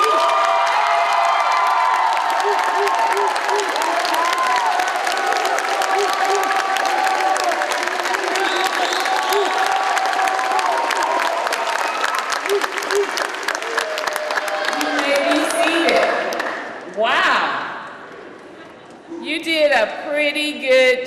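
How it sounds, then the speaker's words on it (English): A graduation audience for adult education graduates breaks into loud, sustained applause with cheering and whoops, the clapping dense and steady before tapering off near the end. "let's just have a test of whether or not you can applaud appropriately for our graduates"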